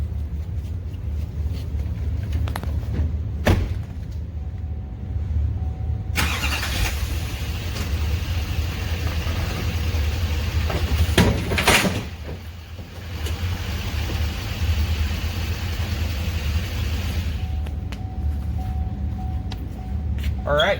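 A pickup truck engine idles and rumbles steadily while backing into an ISR SuperGlide fifth wheel hitch, with a couple of sharp clunks and a brief dip in engine noise midway.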